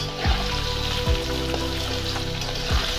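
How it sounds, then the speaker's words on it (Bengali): Potatoes fry in oil left from frying fish, a close, steady sizzling hiss broken by a few dull knocks of a utensil against the pan. "মাছ ভাজার তেলের মধ্যে আলুগুলোকেও ভেজে নেব।"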